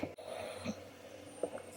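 Dogs asleep indoors give off a faint, steady snoring and wheezy breathing that runs right through, with a soft snort-like catch near the start and another near the end, quiet against room tone.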